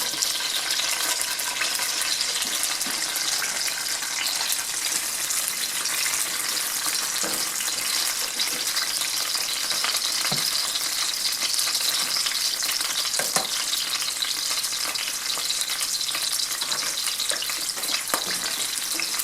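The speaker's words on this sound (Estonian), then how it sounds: "nüüd läheb siin sibula praadimiseks" Onion frying in oil in a pan for pea soup with smoked meat, a steady close hiss and crackle of sizzling that runs continuously without pause, with no talking over it.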